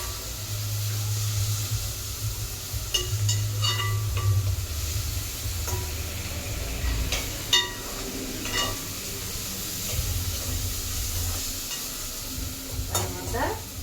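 Onions fry in a pan, a continuous close sizzle with repeated stirring scrapes and clinks against the pan and a low rumble beneath; no speech.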